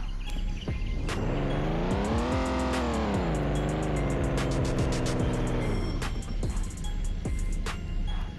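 In the Ultimate Car Parking mobile game, a car engine starts and revs up, holds a raised steady drone, then drops back to idle, loud and continuous, with light clicks of game controls around it.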